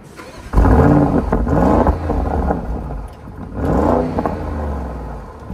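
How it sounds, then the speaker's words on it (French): An Audi SQ8's twin-turbo V8 engine cranks and fires up with a deep roar, then settles into a rumbling exhaust idle that swells again with a brief rev. "On entend la belle mélodie sur tout l'échappement qui commence à vibrer"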